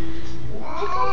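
A cat lets out a loud, drawn-out meowing yowl with a tense, caterwauling edge, close and alone, rising in pitch toward the end.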